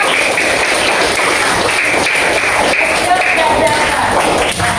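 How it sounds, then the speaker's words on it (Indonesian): A classroom of primary-school pupils claps together for a classmate, a dense, steady patter of many small hands filling the room at close range, with some children's voices and shuffling mixed in. "Pintar, tepuk tangan untuk Mbak Zahwa."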